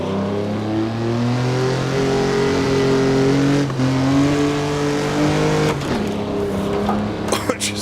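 A historic race car engine in the video game Assetto Corsa drones loud and steady at high revs, with pitch dips and gear shifts through the last corners of the Pau Grand Prix and brief tire noise near the end.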